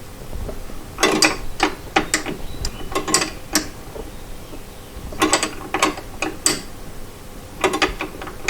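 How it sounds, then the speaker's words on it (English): A ratchet tightens a brake line union on a Porsche 912, giving quick bursts of sharp clicks in several groups with pauses between them, close up and with no talk. "So now I will go ahead and tighten it."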